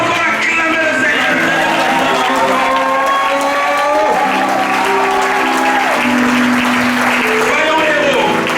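A church congregation at a Sunday worship and thanksgiving service applauds and cheers loudly and continuously, with shouting voices mixed into the dense clapping throughout.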